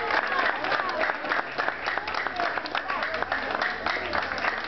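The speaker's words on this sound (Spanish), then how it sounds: "Un fuerte voto de aplauso" Applause from an audience at an anniversary speech event for Los Andes, steady dense clapping throughout with crowd noise and voices mixed underneath.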